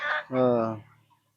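A free-range country rooster on a desi poultry farm gives a brief, close cluck-like call, a short sharp note followed by a longer tonal one, then quiet.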